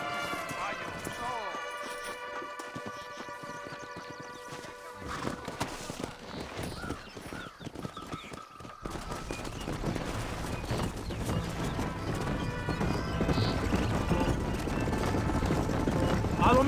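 Horse hooves clip-clopping at a gallop in the Red Dead Redemption video game, a rapid, rhythmic beat under in-game music and spoken dialogue, growing louder and busier toward the end.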